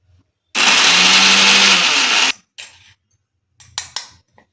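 A mixer grinder whirs loudly for about two seconds, grinding homemade sambar powder with turmeric added, then cuts off, followed by a few faint clinks and knocks.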